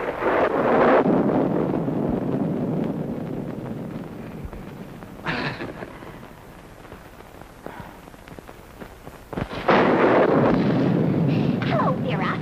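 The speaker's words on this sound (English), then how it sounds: "I just couldn't let Georgie come out in this storm alone." Storm wind gusting outside a house, a steady broadband roar that surges loudly at the start and again after a sharp gust near the end, with no clear talk over it.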